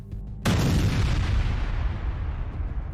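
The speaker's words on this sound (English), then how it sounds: "The force of the explosion was felt for miles." A bomb dropped near a Ukrainian artillery unit in war footage goes off with a sudden, loud, deep blast, then a long rumbling roar that slowly fades over a few seconds.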